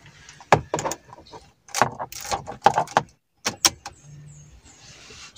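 Car keys jangle in several sharp, close bursts separated by short pauses, alongside clicks and handling noises inside a car being fixed for a cigarette lighter problem, with no talking.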